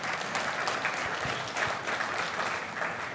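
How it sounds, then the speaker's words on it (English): An audience at a 2021 leadership conference claps steadily, a dense, even wash of many hands that holds for the whole stretch with no voices on top. "got to give a round of applause for Doug Bateman"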